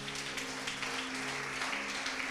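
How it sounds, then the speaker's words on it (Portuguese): Quiet, steady applause from a church congregation, heard from a distance over a sustained organ or keyboard chord. "Aplauda o nome do Senhor."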